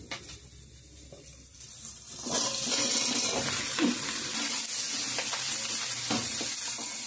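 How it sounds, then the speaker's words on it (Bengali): Vegetables hit a hot pan with shrimp and break into a loud, steady sizzle after a quieter start, with scraping stirs and occasional clinks over the continuous frying. "ভালো করে সবজিটা নাড়িয়ে নিচ্ছি লবণ হলুদ দিয়ে"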